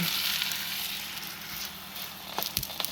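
Homemade pizza dough sizzles steadily in a hot pan, a close, continuous hiss with a few faint crackles and light clicks toward the end.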